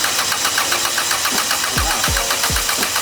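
A Honda K24 engine cranking over on the starter during a compression test, a loud steady mechanical whir with rhythmic low thumps from the compression strokes, close up and without voices.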